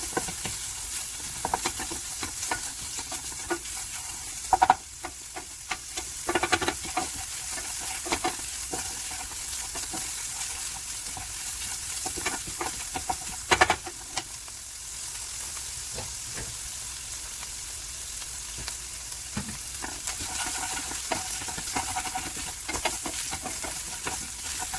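Eggs and chorizo fry with a steady sizzle in a pan for a Mexican huevos con chorizo breakfast, with frequent scraping and stirring clatter and a few sharper knocks against the pan, close and continuous.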